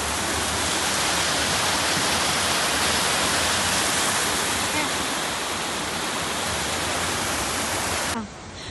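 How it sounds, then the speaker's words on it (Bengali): Waterfall at the Darjeeling Rock Garden, a steady, loud broadband roar of falling water that holds constant and then drops sharply in level near the end. "এই যে দেখেন কীভাবে পানিগুলো পড়তেছে"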